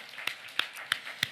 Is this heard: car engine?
no